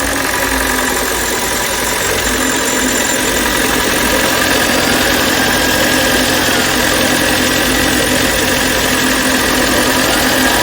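A Kia K5 hybrid engine idles with a cylinder 1 misfire and poor engine oil, making a steady, loud mechanical drone. A rapid ticking, knocking clatter runs through it without pause, recorded close up with no voices.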